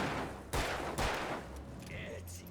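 Two sharp gunshots from the dark horror action game Alan Wake fire about half a second apart, fairly quiet overall, then fade into a dim ambient hum with faint metallic clinks.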